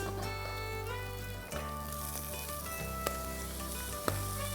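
Prawns dropped into a hot pan with Goan balchao sizzle and fry steadily, a dense continuous crackle with a few sharper pops and stirring scrapes, close and fairly loud throughout.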